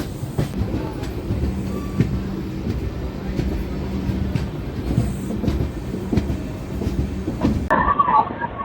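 Padmavathi superfast express running on LHB coaches, heard from inside the carriage: a steady low rumble of wheels with a faint rhythmic clickety-clack over the rails, continuous and fairly loud, cutting out near the end.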